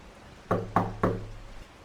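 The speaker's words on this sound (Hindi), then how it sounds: "उसकी सोच में खलल तब पड़ा जब दरवाजे पर अचानक दस्तक हुई।" Three sharp knocks on a wooden door, evenly spaced and close, ringing briefly in a quiet room during a rainy-night horror scene.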